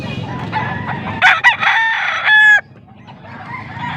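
A stag, a young rooster, crows once, loud and close, with the call rising and holding for about a second before it breaks off, over a low murmur of background noise.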